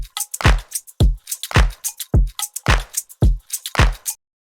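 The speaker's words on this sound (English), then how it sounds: "And all the drums together sound like this." A punchy funky house drum loop: steady kick drum thumps with crisp hi-hats and claps in a driving four-on-the-floor groove, alone and loud.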